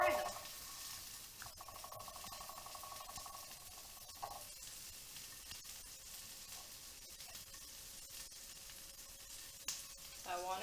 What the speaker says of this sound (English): And then I'm going to fry them.